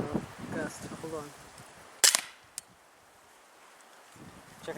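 Daisy Winchester M11 BB gun fired outdoors on a windy, cool day: one sharp, loud crack followed by a small click, with wind noise and a voice talking beforehand.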